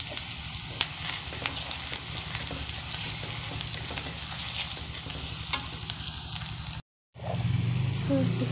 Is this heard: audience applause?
no